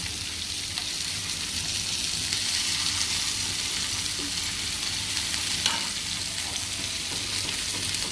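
Continuous crackling sizzle of paneer frying in oil, steady and close, with a faint clink partway through.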